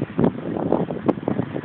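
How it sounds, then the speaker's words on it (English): Gusty wind buffets the microphone in low, rumbling bursts, a short stretch of blustery noise. "wow, it's certainly windy today."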